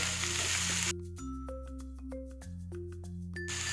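Chopped onions with salt sizzle in a pan while cooking egg masala. Short bursts of broadband frying hiss open and close the moment, with steady musical tones in between.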